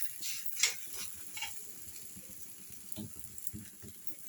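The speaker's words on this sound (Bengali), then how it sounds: "এই যে এখন ভাজছে, কিচির মিচির করে আওয়াজ হচ্ছে এখন।" Aloo paratha frying in hot oil in a pan, a faint steady sizzle with a few soft clatters and scrapes of handling, quiet and close.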